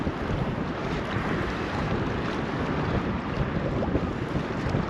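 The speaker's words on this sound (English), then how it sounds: "The wind has got up, it's blowing" A strong northeasterly wind blows by the River Humber on the east coast, a loud continuous broadband rush with gusty buffeting against the microphone and no voices.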